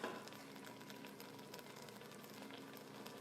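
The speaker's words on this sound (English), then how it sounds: "they're starting to sizzle" Cashew chicken sizzles steadily in a hot pan, a soft continuous crackle with scattered pops, fairly quiet and without any voices.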